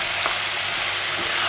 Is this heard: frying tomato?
yes